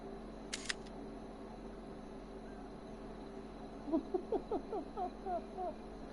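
A camera shutter clicks once early in the clip, a short crisp double snap marking a screenshot in Assassin's Creed Odyssey. Quiet game ambience follows, later broken by a run of short tonal calls.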